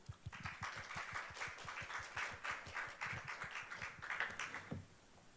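Audience at a Korean biotech expo opening ceremony applauding a company president, a rhythmic burst of many hands clapping that fades out near the end.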